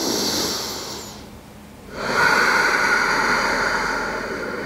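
Yoga breathing through the nose with a constricted throat, a loud close hissing exhale, a short quiet gap, then a long rushing inhale, with no speech.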